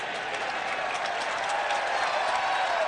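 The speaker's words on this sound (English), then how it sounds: "More derisive cheering." A baseball stadium crowd at a 2007 Rangers vs Orioles game gives sustained derisive cheering and clapping during a lopsided 10-run eighth inning, a dense, distant roar of many voices and hands.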